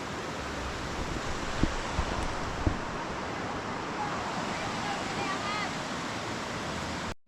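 River water flowing in a steady, broadband rush, close and continuous throughout with no pause, a couple of faint knocks near the start and some voices in the background.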